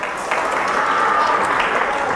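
A church congregation applauds, a loud, dense, steady wash of clapping filling the room without pause.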